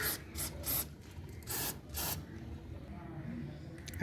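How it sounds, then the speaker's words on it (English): Spray bursts and cloth wiping on the front sprocket of a 2020 Bajaj Boxer X150 motorcycle: several short hissing sprays, the first three quick and two more later, then softer rubbing against the metal, close up. "I will spray this one, and I will use a piece of cloth to wipe this one"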